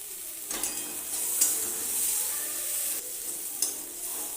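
Chopped ginger and garlic fry in hot oil for a small prawn curry, giving a bright steady sizzle with a hissing edge. Occasional stirring scrapes and light clatter from the pan break through the frying.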